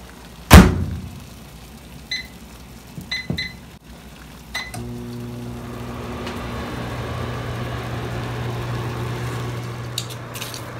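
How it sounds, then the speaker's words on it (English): A kitchen microwave oven's door thuds shut, its buttons beep a few times, then the oven starts and hums steadily while running. "And now these are going in the microwave for"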